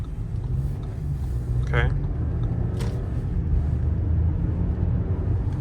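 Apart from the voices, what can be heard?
2021 Audi Q8 S-Line driving out onto a road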